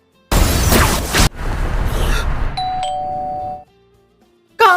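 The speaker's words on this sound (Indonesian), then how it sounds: "Shin malah beralih ke Kaori yang lagi menekan bel rumah Yuya" Doorbell pressed at a house in an anime scene, giving a loud electronic chime that rings out over a burst of noise, then fades into quiet before a short new sound at the end.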